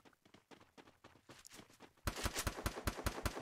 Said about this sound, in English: He does hear the gunshots.